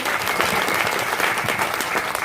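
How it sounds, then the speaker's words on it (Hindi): Steady audience applause at a Patna Gaurichak satsang gathering, dense continuous clapping filling the whole stretch at an even level with no voices over it. "ताली अब तो बजा दीजिए।"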